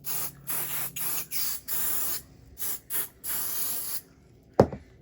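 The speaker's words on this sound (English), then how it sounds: "I'm going to add some basting spray on here just so it will stay in place while I quilt it" Basting spray hisses from an aerosol can onto quilt fabric in several short bursts of varying length with brief pauses between them, close and crisp, followed by a single sharp knock.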